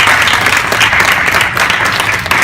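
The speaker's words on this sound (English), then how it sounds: "So round of applause again." Loud, dense round of applause from an audience at a student marketing association meeting, continuous clapping throughout with no pauses.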